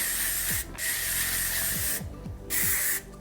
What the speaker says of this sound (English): So I'm gonna be using the color maintenance thermal spray.